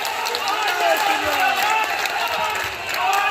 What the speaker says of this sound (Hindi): इस ओजस्वी वक्तव्य के लिए जरा जोरदार तालियां होनी चाहिए